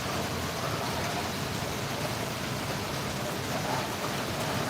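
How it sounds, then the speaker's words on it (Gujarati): Heavy rain falling steadily with no wind, a dense, even hiss that stays loud and unbroken throughout with no voices. "પવન નથી ખાલી વરસાદ જ છે પણ વરસાદ એ તે ઘણો છે"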